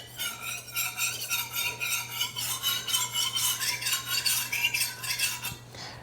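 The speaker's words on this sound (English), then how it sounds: "align it with the honing rod, and then just run it up and down" A bread knife drawn up and down a honing rod, giving rhythmic metallic scraping strokes with a ringing tone, close and steady, over a low background hum.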